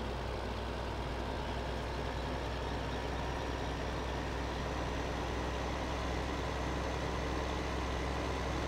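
Tractor engine in Farming Simulator 2015, a steady low diesel drone running at constant revs, close and unbroken throughout, with no talking.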